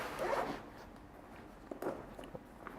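A zipper slides open on the main compartment of a Patagonia Stealth Atom Sling bag, one quick close rasp followed by soft handling rustles and small knocks.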